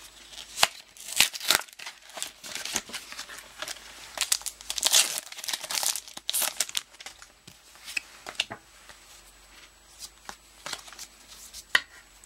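Flashfire Pokémon trading card blister packs being opened, with repeated crinkling and tearing of plastic and foil packaging in close, irregular bursts and no talking.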